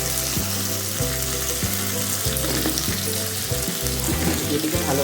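Spices fry in a pan with salt and sugar for semolina suji dalna, a dense, continuous sizzle with low rhythmic stirring scrapes beneath, close and steady throughout.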